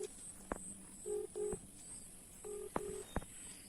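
A phone sounds a short series of keypad dialing tones while a call is being placed, with several distinct beeps in uneven groups, faint and close, among light tapping clicks.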